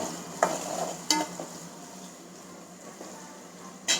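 Curry cooking in a pan on a home stove, with a faint steady sizzle and occasional scraping clicks of a spoon stirring against the pan, no talk.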